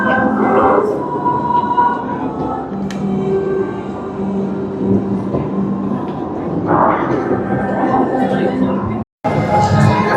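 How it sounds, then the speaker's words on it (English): A Christmas-season theme-park train at Busch Gardens Williamsburg rolls steadily past with a low rumble and faint rail clatter, while people talk nearby throughout. "The train's going by the Peace on Earth sign as we speak."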